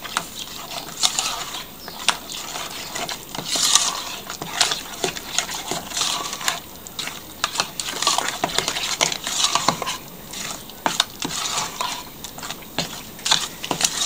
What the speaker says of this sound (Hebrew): אני מערבבת את הכל